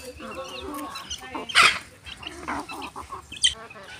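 Chickens cluck and squawk nearby, with a sharp louder squawk partway through, over a busy background of murmuring voices and farmyard noise.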